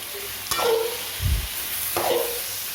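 Chutney ingredients are sautéed in hot oil and stirred in a pan; two scraping spoon strokes sound over a steady close sizzle.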